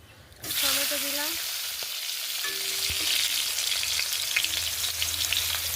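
Tomatoes with black cumin hit hot oil in a wok, breaking into a loud, steady sizzle that carries on for the rest of the clip, with a few faint clinks of stirring.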